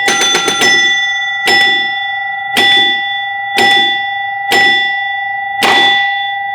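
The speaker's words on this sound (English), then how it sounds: "Now, I want you to hear this knocker." Gottlieb Texas Ranger home-use prototype pinball machine knocking out a bonus: a quick burst of rapid knocks, then five loud, evenly spaced ringing knocks over a steady electronic tone.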